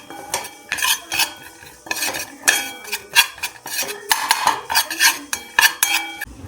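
Besan and dry fruits are roasted and stirred in a pan, with irregular metallic clinks and scrapes of a spoon against the pan coming in close, clustered bursts and only a faint sizzle underneath.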